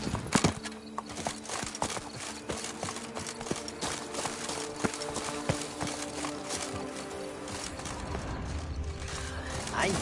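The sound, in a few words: horse trotting in a video game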